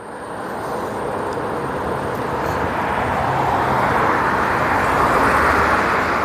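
Cars passing at an agricultural show, a continuous broadband road rumble that builds slowly and stays loud and close throughout, with no distinct individual passes and no talk.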